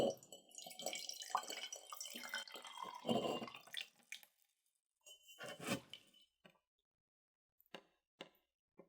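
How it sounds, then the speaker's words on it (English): Tea is poured softly and up close into a cup, a delicate trickle and splash with faint glassy clinks, followed by a few quiet drips and pauses. "I'll pour us some more tea."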